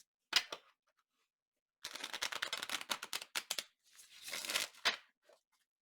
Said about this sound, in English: Okay, let's try shuffling again.